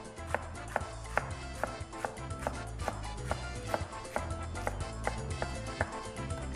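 Knife chopping lettuce into thin strips on a cutting board for a homemade chicken salad, a steady run of close, crisp taps repeating at an even rhythm, with no talking.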